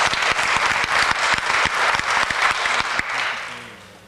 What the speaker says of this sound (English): I think a round of applause for these awesome people from the Council on Aging and all the other board members.